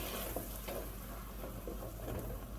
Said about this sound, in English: Now I'm going to add that half cup of red wine in there, and I'm just going to let it simmer for a little bit.